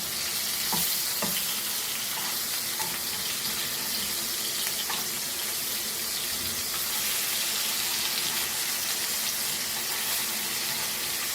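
Milkfish pieces frying for a Goan fish fry give off a loud, steady sizzle that runs through the whole stretch, with a couple of brief clicks near the start and no talking.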